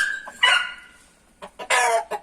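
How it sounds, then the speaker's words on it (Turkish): An Asil Indian rooster lets out a couple of loud, harsh clucking calls close by, separated by a short pause and a few softer clucks from its hens. "Hint horozu var."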